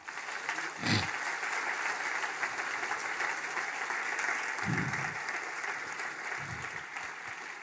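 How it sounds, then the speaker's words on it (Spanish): A church congregation applauds for the Lord, a full, even crackle of clapping lasting several seconds, broken by a few low thumps. "Denle un aplauso al Señor."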